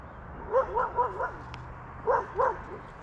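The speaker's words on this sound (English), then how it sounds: "two dogs who see me and come barking up and running after me and sniffing me" Two off-leash dogs barking and yipping while running up to someone outdoors on a hillside in moose country, with a quick burst of three yips followed by a pause and two more, close by and moderately loud.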